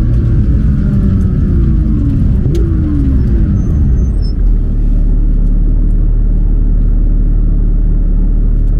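Porsche 992 GT3 doing a burnout: a loud, close, steady engine roar with a falling pitch sweep early on, then settling into a sustained deep rumble with no talking.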